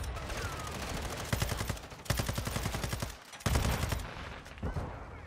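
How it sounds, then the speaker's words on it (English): Call of Duty video game gunfire: several loud rapid bursts of automatic shots separated by short pauses, close and sharp, with no one talking. "I don't know why I'm shooting, but I am."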